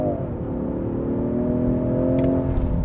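A 2025 Range Rover Sport SE pulls away from a standing launch on level ground, its engine note rising steadily and loud inside the cabin over a continuous low rumble, with no voices.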